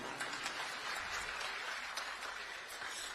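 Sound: audience applause

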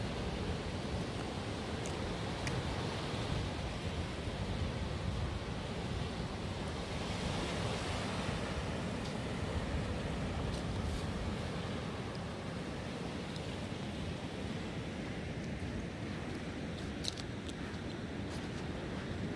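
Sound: ocean waves on the beach with the tide going out

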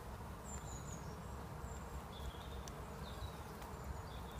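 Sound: swarm of bees moving into a Japanese hive

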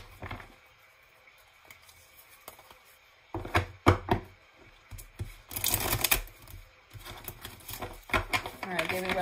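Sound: shuffling tarot cards

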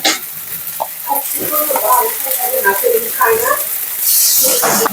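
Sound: ginger garlic paste and spices sautéing in a pan

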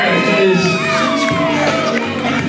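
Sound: crowd applauding and cheering at wedding garter toss

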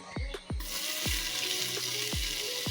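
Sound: cloves, cinnamon and star anise sizzling in hot oil

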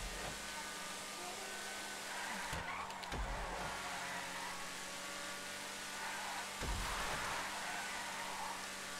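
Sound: car engines racing in GTA V Online, from a video game

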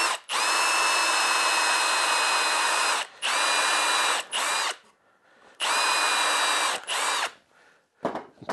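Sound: power drill countersinking MDF board

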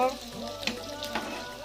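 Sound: chillies frying in oil

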